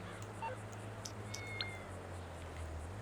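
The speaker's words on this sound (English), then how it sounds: "But it's meowing, so I'm gonna assume it's a cat." A cat meows a few times in the GTA video game, short faint calls over a steady low background hum with no talk.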